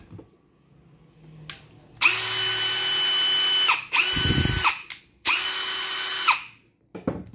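A Ryobi 18V three-function cordless drill whirs loudly in three sustained bursts, each a couple of seconds long, with brief clicks and a deeper rattling surge between runs, heard up close with no talking.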